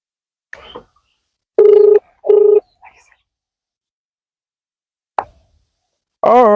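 Two short electronic phone tones beep in quick succession amid silence as a call is redialed after being cut off, followed by scattered clicks and a warbling tone at the end.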